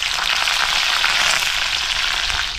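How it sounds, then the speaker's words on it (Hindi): Finely chopped garlic sizzles in hot oil with asafoetida and crackled cumin, a loud, steady, dense frying hiss filling the whole stretch without pause. "अब इसमें डालते हैं हम बारीक कटा हुआ लहसुन।"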